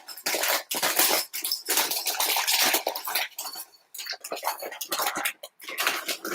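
Chocolate chips are poured into a bowl in a home kitchen, giving a close, loud patter of small hard pieces that rattles in uneven bursts with short pauses between them.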